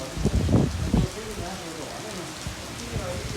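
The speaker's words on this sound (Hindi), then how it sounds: "बूंदें नहीं गिरी आज तो भाई अच्छी खासी बारिश हो रही है।" Steady, fairly heavy rain falls outdoors with a constant soft hiss, while a voice talks briefly near the start.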